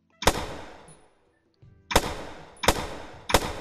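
Four sharp gunshots in the VR game Physics Playground, each a loud crack with a short decaying tail, spaced irregularly with a quiet gap between the first and second shot.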